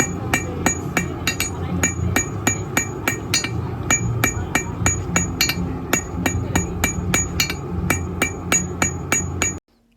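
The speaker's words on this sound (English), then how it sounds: "the pinging of the hammer on the metal" A hammer strikes metal in a steady, fast, ringing rhythm, each blow a bright ping close by, continuing for about nine seconds before stopping suddenly.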